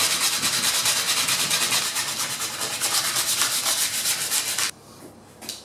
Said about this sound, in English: I'm going to have to scrape that all off with some sandpaper